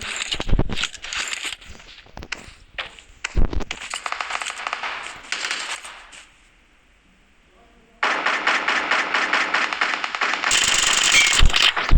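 Gunfire rattles in sharp, loud bursts during a ranked video game match, with rapid volleys, a short lull, then sustained automatic fire.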